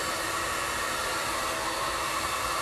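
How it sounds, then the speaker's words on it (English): A hair dryer blows continuously at close range, a steady loud whooshing hiss with no change in pitch or breaks, and no voices over it. "Alright, we're still blow drying."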